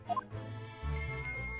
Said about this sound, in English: Yes, it's a bell cord. Can't resist.